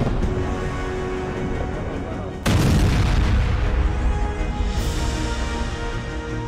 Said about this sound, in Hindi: जबरदस्त धमाके के बाद बारूद और धूल का गुबार 200 फीट तक पहुंच गया।